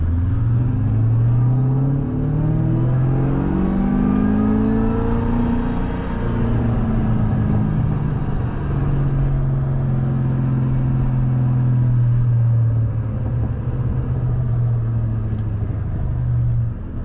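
A 500 hp car's engine hums and rises in pitch as it accelerates through the gears at dusk, with a steady, continuous drone. No one speaks.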